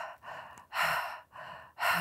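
A voice imitates the heavy breathing of a dying woman lying in bed: three loud, drawn-out rasping breaths, close and alone, separated by short pauses.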